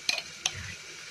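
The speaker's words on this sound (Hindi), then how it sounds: "अब मैं लगाऊंगी तड़का देसी घी का, मैं डाल दूंगी इसमें देसी घी 2-3 स्पून" Desi ghee tadka tempering for a dal: a brief sizzle with two sharp spoon clinks against the pan, then a steady soft frying hiss, with no speech.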